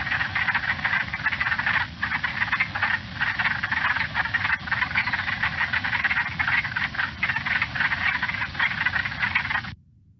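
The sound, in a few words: wood frog calling, played recording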